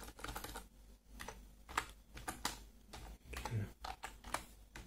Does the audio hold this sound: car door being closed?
no